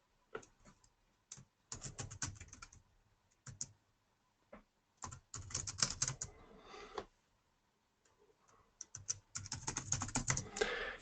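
Computer keyboard typing in bursts of rapid clicking keystrokes separated by pauses, on a machine used to write and compile C++ code, with one key sticking; close and moderately loud, no voices.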